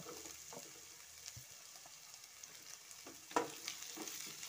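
Cabbage, carrot and capsicum being sautéed for vegetable chow mein, a soft steady sizzle with faint stirring scrapes and one sharper clatter of a utensil near the end.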